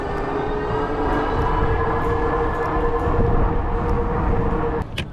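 A Himiway Zebra electric bike with knobby tires rides fast, giving a steady, loud rolling roar of tire hum and wind that holds even throughout, with a brief drop near the end.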